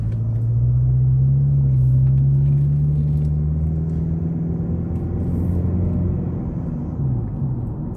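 A 2002 Toyota Camry LE engine with its exhaust cut completely off drones loud and steady at idle, a deep rumbling hum that holds through the whole stretch with no talk over it.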